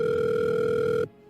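A telephone dial tone sounds steady and loud for about a second, a continuous two-pitch hum that cuts off abruptly as the line is picked up or dialed, then leaves near silence.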